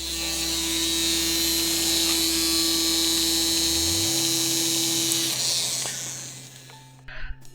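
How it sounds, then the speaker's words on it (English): A small rotary drill bores into a gemstone backed with blue tack, giving a steady high-pitched whine with slight vibration that winds down and stops near the end, followed by faint handling noises. "I'm doing a fair bit of drilling and there's a little bit of vibration going on"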